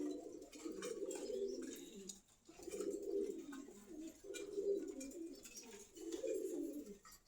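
Caged pigeons at a bird market in Meradia bazar, Khilgaon, Dhaka, coo softly in a repeating rhythm of four or five low, throaty phrases, fairly quiet and close.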